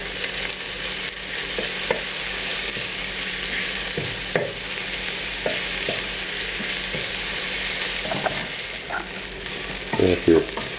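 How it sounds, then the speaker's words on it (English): Onion, bell pepper, ginger and garlic frying together in a pan for a vegetarian sweet potato curry, a constant sizzle with occasional stirring scrapes and a louder clatter near the end. "now I'm going to add bell pepper to it, as well as the ginger and the garlic, and cook this for a few minutes"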